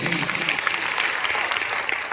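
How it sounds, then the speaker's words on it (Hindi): An audience at a health meeting claps in a sustained, even burst of applause, fairly loud and close, with no clear voices over it. "जोरदार तालियां होना चाहिए"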